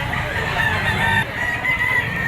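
Roosters crow and cluck continuously at the Lipa auction market, a dense, loud chorus of overlapping calls from several birds with steady crowd murmur underneath.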